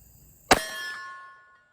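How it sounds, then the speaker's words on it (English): A single sharp gunshot from a Cimarron revolver strikes a steel silhouette target, the crack followed at once by a bright metallic ring that hangs and fades over about a second. "My first shot's going to be at that silhouette"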